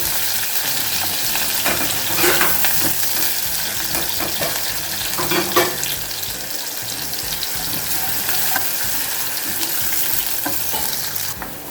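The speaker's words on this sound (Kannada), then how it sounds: "ಹಾಗೆ ಸ್ವಲ್ಪ ಕರಿಬೇವು, ಅದನ್ನು ಚೆನ್ನಾಗಿ ಫ್ರೈ ಮಾಡ್ಕೋಬೇಕು" Curry leaves sizzle and crackle in hot oil in a pan, a dense steady frying hiss with occasional louder pops and stirring, alone and close throughout.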